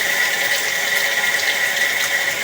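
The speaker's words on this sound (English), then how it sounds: "So running water while we do this will also highlight any low spots" Water runs steadily through a house drain line during a sewer inspection, a constant loud hiss and rush with no breaks and no voices.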